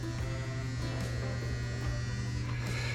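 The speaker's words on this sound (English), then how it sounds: "The dryer is still causing issues." A clothes dryer with a fault runs with a steady, loud electrical hum and buzz, continuous and unbroken, with no voices.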